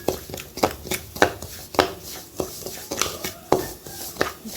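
Semolina roasting in a pan while a spoon or spatula stirs it, giving repeated scraping knocks at an uneven rhythm, close and fairly loud against a quiet background, with no talking.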